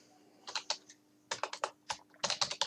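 Rapid keystrokes on a computer keyboard while entering text in Microsoft Word, coming in three short bursts of clicky taps with brief pauses between them, close and fairly quiet, with no talking.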